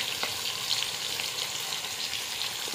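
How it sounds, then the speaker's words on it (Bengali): Carp fish pieces fry in hot oil, a close, steady bubbling sizzle with soft crackles rising and falling, and no voices. "মাছগুলো ভেজে নিই।"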